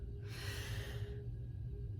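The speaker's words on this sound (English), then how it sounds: "Deep inhales" One slow, deep inhale through the nose, a soft airy rush lasting about a second, close and quiet over a low background hum, followed by stillness.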